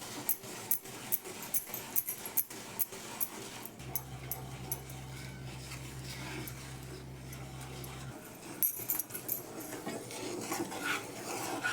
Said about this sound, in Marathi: मी पटकन शेंगदाण्याची सालं काढून घेते